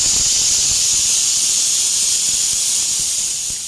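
A pressure cooker whistles steadily while mutton cooks inside, one continuous loud steam hiss held for several seconds and easing slightly toward the end.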